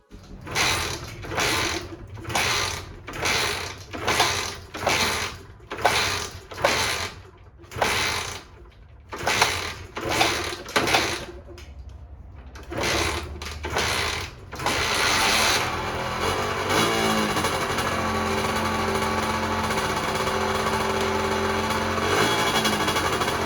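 A 2020 50cc moped is cranked in a quick series of rhythmic strokes that fill the first part. Then the engine catches and settles into a steady, close, continuous running drone.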